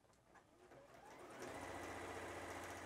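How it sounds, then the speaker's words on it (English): Juki HZL-F600 sewing machine stitching fabric with the presser foot down, its motor rising into a steady, fairly quiet mechanical hum that continues evenly to the end. "say I put my presser foot down and I'm sewing"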